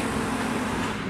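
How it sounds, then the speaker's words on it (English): A loud garbage truck passes outside a house, filling the moment with a steady, dense roar of engine and road noise, close and unbroken, with no talk. "So the garbage truck is really, really loud."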